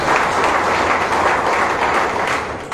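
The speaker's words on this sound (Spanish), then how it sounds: "Fuerte el aplauso" An audience at an academic ceremony in Pativilca, Peru, claps in a steady, dense burst of applause that continues throughout, fairly close and without voices.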